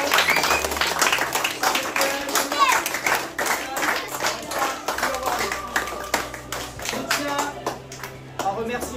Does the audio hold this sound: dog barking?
no